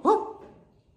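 A single bark from a dog, with a sharp, loud onset that tails off over about half a second; a person nearby says "woof" in imitation between the barks.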